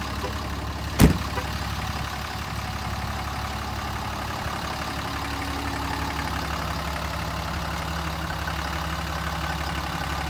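Diesel engine of a 2008 Ram 3500 four-wheel-drive truck after glow plug warm-up, with a brief sharp start sound near the beginning, then a steady low idle rumble throughout, close and constant, no voices.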